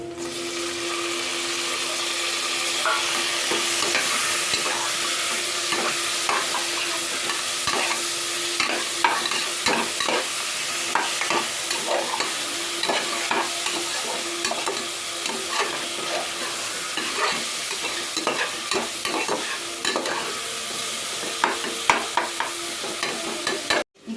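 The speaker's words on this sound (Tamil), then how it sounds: "இப்போ தக்காளி வெங்காயம் நல்லா வதங்கிடுச்சு" Tomato and onion sautéing for a vegetable and sprouted pea biryani, a loud continuous sizzle close up, broken by frequent scraping and clattering stirs of a spoon against the pan, with no voices.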